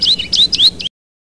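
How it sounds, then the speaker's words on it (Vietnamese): A small bird gives a quick run of about five bright, high chirps that sound close and clear, lasting under a second before falling silent. "Con chim."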